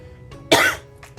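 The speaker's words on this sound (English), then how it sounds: "then I'm coughing for a little bit" A single sharp cough bursts out close by, followed by a couple of softer throat-clearing rasps in an otherwise quiet room.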